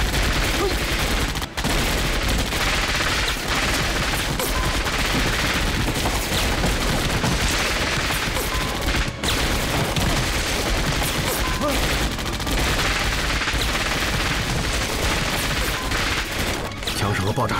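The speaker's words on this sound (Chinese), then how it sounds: "枪声和爆炸声肯定惊动了船头的鬼子" Dense, continuous gunfire with bursts and booming explosions in a war drama battle scene, loud and unbroken for the whole stretch, with brief shouting half-buried in the barrage.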